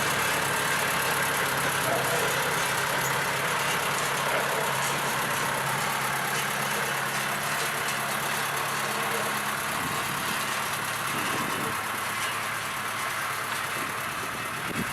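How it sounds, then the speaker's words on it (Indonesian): A D25 diesel locomotive runs steadily as it moves into a left-hand branch line and crosses a local road, with its exhaust mounted low near the wheels. The engine gives a continuous loud rumble with broadband hiss throughout, and no voices are present. "sekarang lokomotif D25 mulai memasuki percabangan ke arah kiri dan juga melintasi jalan lokal ini"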